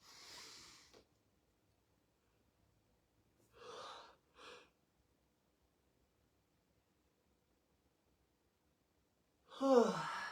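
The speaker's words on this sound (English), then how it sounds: "Yawns, that was an instigated yawn." A person performs a deliberately instigated yawn during a body-movement and breathwork session: long drawn breathy exhalations and short gasping breaths separated by silence, with a louder sighing yawn at the end, close and alone.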